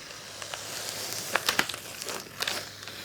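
Masking tape is peeled off watercolor paper after painting tulips. Faint crinkling and tearing rasps build into a cluster of sharper crackles near the middle, then trail off in softer rips, with no voices.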